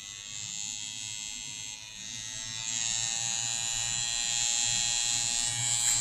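A steady high-pitched electric buzz from a rotary tattoo pen, continuous and close, growing noticeably louder partway through as its speed is turned up to setting 9.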